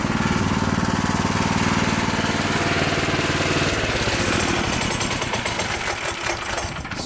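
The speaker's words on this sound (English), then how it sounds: "So I can hear the chain." A custom 420cc dune buggy engine runs close by, a loud, steady mechanical drone with a rapid rattling chain clatter, shifting and roughening toward the end.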